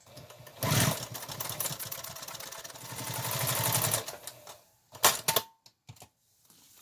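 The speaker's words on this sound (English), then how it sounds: "And now we're going to sew along the other side." Sewing machine stitching along the side of a market bag made from a bulk rice bag, running in steady bursts of mechanical whirring that stop and start, close and fairly loud.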